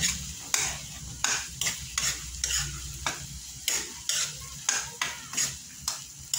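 Tomatoes stir and fry in a pan, a steady sizzle broken by regular scraping strokes of a utensil, roughly two per second, close and clear with no talking.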